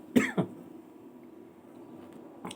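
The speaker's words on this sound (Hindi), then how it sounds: "बहुत ज़्यादा दबाव हो रहा है खांसी का" A person coughs twice in quick succession, close and fairly loud, followed by quiet room tone and a faint throat sound at the end.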